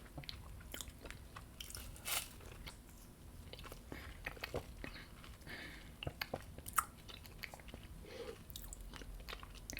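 Shave ice eaten close to the microphone, with repeated crunchy bites and wet chewing in a soft, intimate, uneven rhythm.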